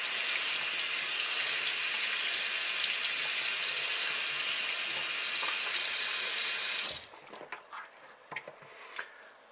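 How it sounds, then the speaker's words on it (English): Lukewarm tap water runs steadily from a faucet to rinse acrylic medium out of a paintbrush, a loud continuous hiss that cuts off abruptly, followed by faint splashes and handling sounds. "get a little lukewarm water, rinse it out"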